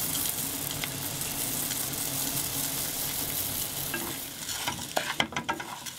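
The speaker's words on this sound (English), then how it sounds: "we're just going to add that into the onions and toast that in the butter a little bit" Arborio rice toasting in butter with onions in a pan, giving a steady, even sizzle throughout, with a few sharper scrapes and stirring clicks near the end.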